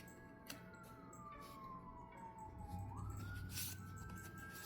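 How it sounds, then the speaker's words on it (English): An emergency vehicle siren wails outdoors in town, faint and distant, its tone sliding slowly down then rising again over a low background hum. "I don't know where all these sirens are coming from."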